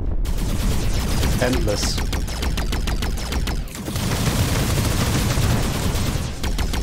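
Weapons fire in rapid, regular bursts in the video game Arc Savior, a loud, dense barrage of repeated shots with a short break midway, and a voice briefly speaks over it.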